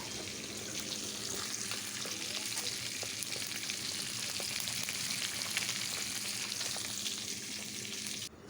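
Fish pieces coated in salt and turmeric fry in hot oil, a steady crackling sizzle running unbroken from start to finish at moderate volume, with no talking.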